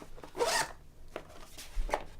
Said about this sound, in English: So it's a weatherproof zipper with paracord pulls